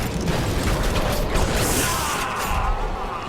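Mechanical ratcheting and gear-like clanks from a trap bolt mechanism in the video game BioShock, layered over a dense, steady game soundscape with a creaking, grinding quality throughout.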